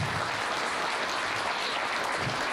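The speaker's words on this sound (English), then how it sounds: "We'll give all these kids a round of applause out here in the Born and Raised division." Brief, steady applause from a crowd in a county junior fair show arena, for kids in a born-and-raised sheep show, a dense wash of clapping throughout.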